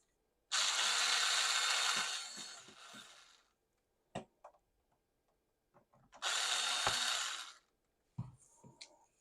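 A screw being driven out of an aircraft display with a power screwdriver, two loud whirring bursts separated by quiet clicks and small handling taps, close up.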